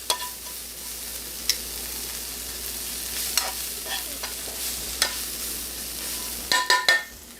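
Nettles and sage leaves fry in brown butter with a steady, close sizzle, broken by a few sharp scraping clicks of stirring near the end.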